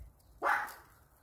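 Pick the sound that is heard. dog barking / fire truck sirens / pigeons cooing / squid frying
dog barking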